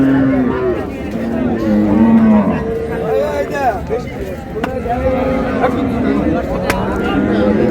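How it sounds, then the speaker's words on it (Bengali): Dairy cows and calves moo repeatedly at a busy rural cattle market in Dinajpur, long low calls rising over crowd chatter and nearby voices. "গাভী বাছুর।"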